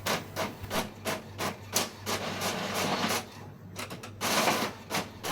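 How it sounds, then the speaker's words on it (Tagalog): A duplex-capable office color printer runs steadily, its rhythmic mechanical whirring and rubbing feed strokes repeating about every half second at close range, with no talk. "Maganda itong printer na to kasi kaya niyang mag-print ng baligtaran."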